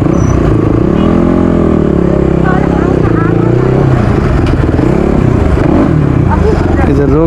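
A dirt bike engine near the Sunauli Nepal–India border rumbles close by and slows toward a stop, its pitch sliding and wavering, with voices mixed in.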